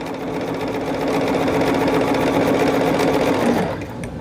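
A sewing machine stitches a quilt in a steady, fast, close whir that runs for about three and a half seconds before winding down and stopping.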